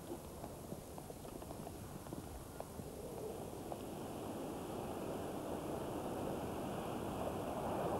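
Steady sea breeze and surf along the coast of Mount's Bay near Marazion in Cornwall, a broad continuous wash of wind and surf that swells slightly louder toward the end, with faint scattered clicks.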